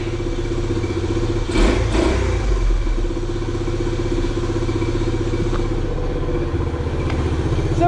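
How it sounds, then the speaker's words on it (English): Honda Trail 90 motorcycle engine idling steadily, a close, even, puttering single-cylinder run with a brief louder blip near the start, continuous for about eight seconds. "So we finally have the Trail 90 running, and she sounds pretty healthy too."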